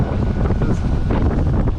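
Strong wind buffeting a sailboat at sea near Phuket, Thailand, a loud continuous roar of gusts battering the microphone with no talking.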